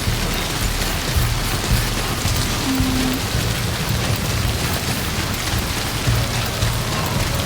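Timefall rain in the video game Death Stranding pours steadily and loudly onto surfaces, a dense continuous hiss with scattered heavier drops and a faint low rumble underneath, no voices.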